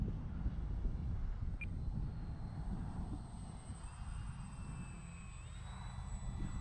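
A Hobbyzone Carbon Cub S2 radio-controlled plane flies outdoors, its electric motor giving a steady, thin drone at a distance while a low, rumbling wind noise fills the background throughout.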